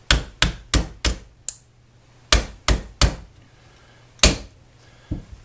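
Punch tapped with a hammer to drive a pin out of a Kimber Pro Raptor 1911 pistol frame, sharp close metallic taps in a quick run of four, then a pause and several more spaced strikes.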